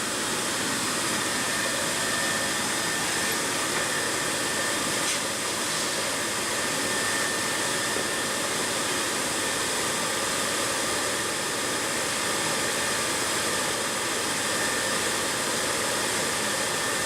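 A soldering torch roars steadily while heating small pieces of solder on a handmade dragon eye bracelet, a continuous broadband hiss with no break throughout.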